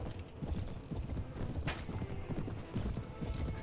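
Cavalry horses in Mount & Blade Warband, a rapid, continuous clatter of hooves in a busy battle mix, fairly close and moderately loud, with no talk over it.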